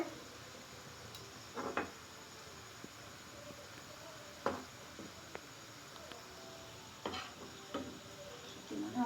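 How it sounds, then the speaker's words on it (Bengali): Jackfruit fritters nearly done in hot oil give a faint, continuous sizzle, broken by scattered soft clicks and scrapes of stirring. "বড়াগুলি ভাজা প্রায় হয়ে এসেছে।"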